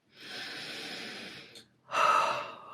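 Two long, deep breaths, a drawn-out inhale followed after a short pause by a heavier exhale, close and fairly loud with no talking.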